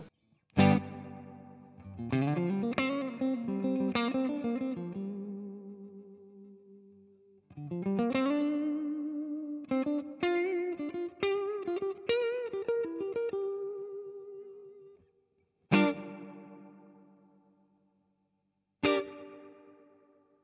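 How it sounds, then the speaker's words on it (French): Electric guitar phrases drenched in springy reverb from a Tiny Spring reverb pedal, notes ringing and splashing with a wet, bouncy tail; a few single struck chords decay alone near the end. "La Tiny Spring, donc la promesse, c'est un potard de reverb"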